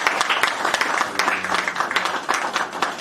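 Sustained crowd applause at a political rally in Paris, steady dense clapping filling the whole stretch at a loud, close level with no speech over it.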